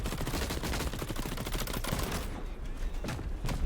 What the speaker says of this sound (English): Really good sniper shot on his part.